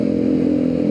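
A noisy motorcycle engine on a ride toward Soekarno-Hatta airport, a steady loud droning hum filling the whole moment without any talk.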